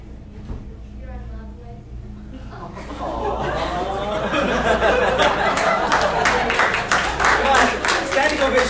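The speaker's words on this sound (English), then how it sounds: "Come on, standing ovation, every stand up and give a round of applause." Audience clapping and cheering at a live Q&A session with Mufti Muntasir Zaman, swelling from scattered claps into sustained, fairly loud applause with laughter and chatter mixed in.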